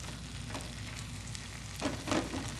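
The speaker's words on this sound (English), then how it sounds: "We're going to saute that together, let it cook." Apples sauté in a pan with a soft, steady sizzle and crackle, faint and continuous, with a few brief stirring scrapes near the end and no speech.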